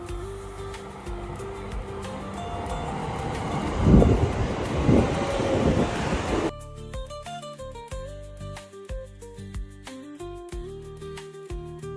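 A loud, rumbling train pulls in amid blustery wind noise for about six seconds, then the noise cuts off and music plays.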